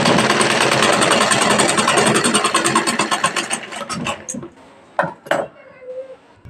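Sewing machine stitching a half-inch seam on a blouse, a rapid continuous mechanical whir that slows and stops partway, followed by a few isolated clicks and knocks, close by.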